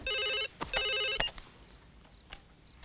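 An old-style telephone rings two electronic bursts in quick succession, clear and fairly close, then a handset clatter and quiet room tone follow.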